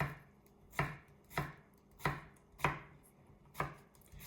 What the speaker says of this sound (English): we'll get these vegetables all chopped up